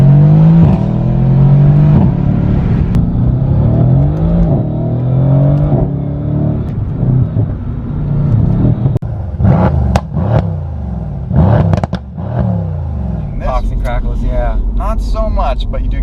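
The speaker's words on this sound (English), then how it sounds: "you do get the nice slap on the upshifts, which we will demonstrate once more" An Alfa Romeo Giulia Quadrifoglio revs under a voice talking, then gives a series of sharp exhaust slaps and cracks as it shifts up, loud and close, with further bursts near the end.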